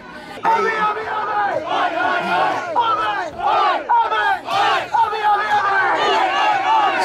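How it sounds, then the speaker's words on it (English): A large crowd of protesters marching against a third Melbourne lockdown, loud rhythmic chanting and shouted slogans rising and falling in waves, close and continuous. "there is a line marching, a crowd marching for as far as the eye can see of Victorians"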